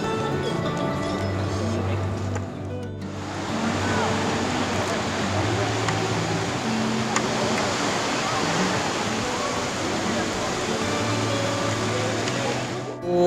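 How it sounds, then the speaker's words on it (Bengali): Sea waves roll in at Mandarmani beach near Digha with a steady, close, rushing roar of surf that fills the whole stretch without pause. "আর এই হচ্ছে মন্দারমণি সি বিচ আর আমরা এখন যাচ্ছি একটু সমুদ্র জলের পাশাপাশি"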